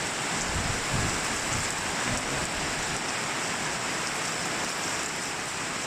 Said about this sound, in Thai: นี่นะจะเป็นพายุลูกสุดท้ายเนาะครับเนาะ